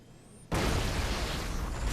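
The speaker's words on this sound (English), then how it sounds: "Whoops. Plasma grenade." A plasma grenade goes off in Halo with a sudden loud burst after half a second of near quiet, followed by a sustained roaring, crackling wash that holds steady to the end.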